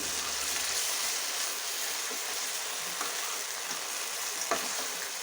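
Spice paste (masala) for spinach paneer frying over medium-low heat in a pan, a steady close sizzle with faint stirring scrapes and a few soft pops.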